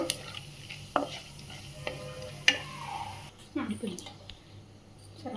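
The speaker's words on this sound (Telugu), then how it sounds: "ఒక స్పూన్ శనగపప్పు మినప్పప్పు జీలకర్ర ఫ్రై చేసుకోవాలి కొంచెం" Chana dal, urad dal and cumin seeds frying in a pan for a tomato cabbage curry, sizzling under a spoon that scrapes and taps the pan in irregular strokes; a voice speaks over the cooking.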